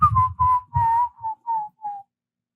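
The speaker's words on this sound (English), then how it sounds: "they're probably gonna be so mad that I just whistled" A person whistles a short descending tune of about seven notes, clear and close, with no other sound behind it.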